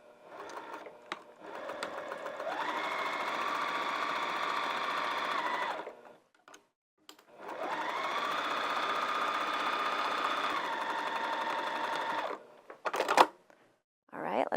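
A sewing machine stitching a fabric dog kerchief, two long steady runs of whirring motor hum that ramp up in speed, separated by a short pause and ending with a clack.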